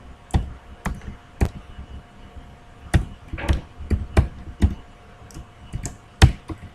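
A query is typed on a computer keyboard with a dozen or so separate, fairly loud key clicks at an uneven pace, mostly spaced apart with a few quick pairs, and no talking.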